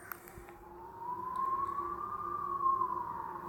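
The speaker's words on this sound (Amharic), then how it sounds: "ሰማችሁ? የፖሊስ መኪና" A police car siren wailing in the distance, one long slow rising and falling tone that swells gradually, faint against quiet background noise.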